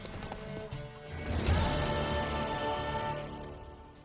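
Horse hooves clip-clopping in The Witcher 3: Wild Hunt, a mare's rhythmic hoofbeats mixed with a whinny and game music, swelling midway then continuing steadily.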